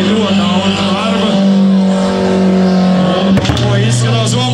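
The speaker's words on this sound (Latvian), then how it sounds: "tā nebija riep, tas bija motors, kas izveš šādus šāvienus" A race car at a tire-burning drift event holds a loud, sustained engine roar, then a cluster of sharp bangs breaks through near the end before the engine note resumes; close and dominant.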